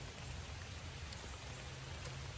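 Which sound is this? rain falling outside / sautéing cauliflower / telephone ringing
rain falling outside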